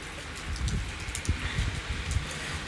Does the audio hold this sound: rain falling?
yes